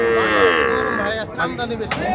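A Sahiwal bull calf at a rainy, muddy cattle market lets out one long, loud, close moo that fades toward the end. Faint background noise follows it.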